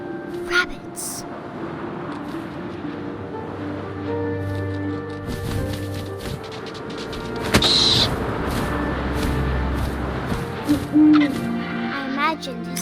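An owl hoots in the video game What Remains of Edith Finch, with a few clear calls rising over a steady bed of wind and ambient game sound.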